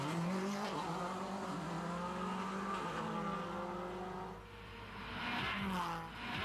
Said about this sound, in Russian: Мы можем просто рвануть с места, она контролирует уровень сцепления с дорогой и проскальзывания.